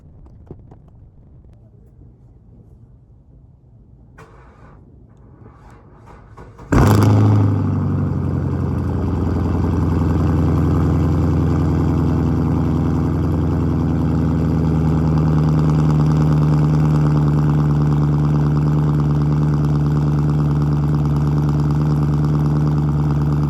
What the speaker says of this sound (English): This car is loud as hell